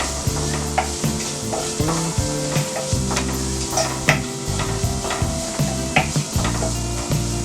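Chopped onion with Kashmiri chilli powder fries on a medium flame, giving a loud, steady sizzle and a rhythmic scrape and knock of the spatula against the pan, repeated throughout.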